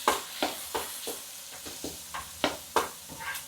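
Tri-colour capsicum pieces stirred in a frying pan with a faint sizzle underneath, the spoon scraping in a steady series of about nine close, crisp strokes.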